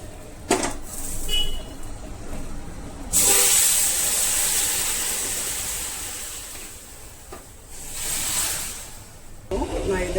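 Mustard seed and asafoetida tempering poured into rasam, a loud hissing sizzle that bursts in suddenly, then slowly fades and flares again, with a voice speaking briefly around it.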